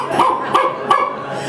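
A small dog barking three times in quick succession, close and loud, with short sharp yips.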